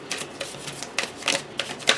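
Tarot cards flip and shuffle close by in quick, light, papery clicks and slaps, several in two seconds at an uneven rhythm.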